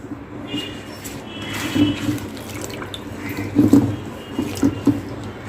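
Taro leaves are put into salted water in a kitchen: soft splashing and dripping, close by, with a few louder sloshes and plops in the second half.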